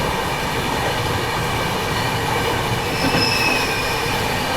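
A passenger train passes on the adjacent track, its wheels rumbling and clattering loudly and steadily, with thin metallic squeals rising near the end.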